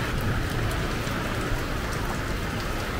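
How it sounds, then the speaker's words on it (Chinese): Heavy rain falls steadily in Guangdong, a dense, loud, continuous hiss of drops pelting surfaces nearby with no break or voices. "这个雨太大了"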